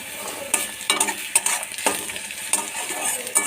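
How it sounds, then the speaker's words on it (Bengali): Garlic and onion frying in a pan, a close, lively sizzle broken by repeated sharp scrapes and clinks of a spoon stirring against the metal, with no speech. "রসুন পেঁয়াজ লাল লাল করে ভেজে নেব।"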